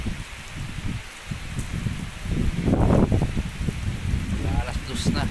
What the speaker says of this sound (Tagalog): bumuhos pa yung ulan kasamang hangin